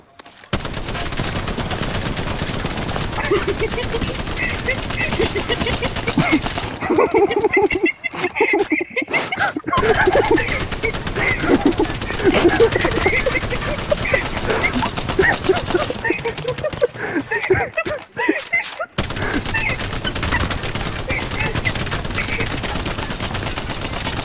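Spitfire machine gun firing in an Apex Legends match, loud continuous rapid automatic bursts almost wall to wall with brief gaps, mixed with other game sounds and faint voices underneath.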